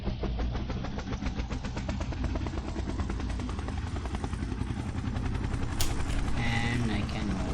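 Helicopter engine from an Unreal Engine game flying system, a steady close rotor chop with rhythmic blade pulses and whining turbine that winds down slightly toward the end, with a brief high click near the finish.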